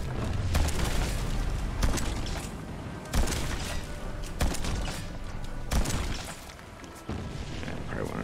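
Gunfire in the VR naval combat game Battlewake, with repeated booming shots every second or so over a dense rumbling battle bed and a voice talking throughout.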